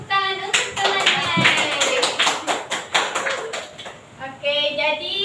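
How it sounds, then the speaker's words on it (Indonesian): Pupils in a fifth-grade primary classroom clap for a classmate in a few uneven rhythmic bursts of hand claps, fairly close, with a teacher's voice speaking before and after. "Silakan tepuk tangan untuk temannya."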